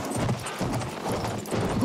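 Horse hooves clip-clop in a steady trotting rhythm in the Battlefield video game, fairly close and alone.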